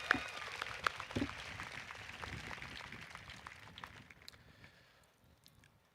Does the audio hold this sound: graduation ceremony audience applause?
yes